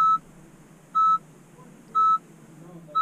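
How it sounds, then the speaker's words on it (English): A car beeps in short, evenly spaced electronic tones about once a second, clear against a quiet background. "Oh, what's that beeping?"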